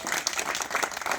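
Enthusiastic clapping from a crowd at a Kurmi community village rally in India, dense and steady throughout, with no talk over it.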